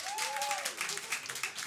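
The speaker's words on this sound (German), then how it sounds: "Wer kommt aus dem Ruhrpott? Einmal klatschen." A live stand-up comedy audience in Cologne gives a short burst of applause, with scattered clapping and a few voices mixed in.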